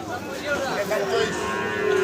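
A cow moos at a rural cattle market, a drawn-out low bellow with rising and falling pitch lasting the whole short moment, close and fairly loud over a busy background murmur.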